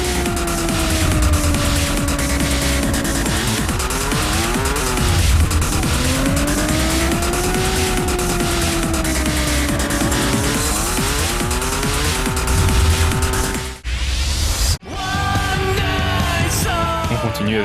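Motorcycles race in a Nintendo DS video game, loud engines whining and shifting pitch through gear changes without a break, then a brief dropout and the engines again.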